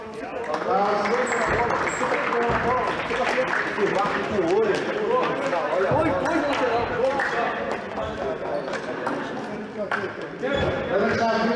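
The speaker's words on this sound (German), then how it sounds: "jetzt bitte noch mal Applaus für die Wegbahnung" Sustained crowd applause at a soccer awards night ceremony, a dense steady wash of many hands clapping for over ten seconds, loud and continuous with a few voices mixed in.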